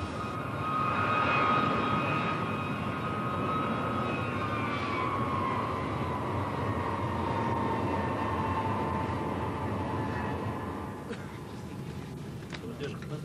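Steady airliner engine drone heard from inside the cabin during flight, a continuous loud hum with a faint whine. Talking is mixed in over it.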